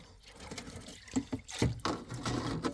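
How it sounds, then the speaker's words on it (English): Water from a hose pours into the feed inlet at the top of a high banker gold sluice, a steady splashing trickle with some louder gushes, moderately near and fairly quiet throughout. "we've got the hose running up into the top of the high banker, into the feed inlet"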